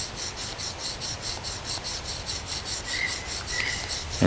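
A Scandi-grind bushcraft knife is drawn along a Fallkniven DC-4 sharpening stone, giving close, steady rhythmic rasping strokes in an even back-and-forth pattern, with no voices.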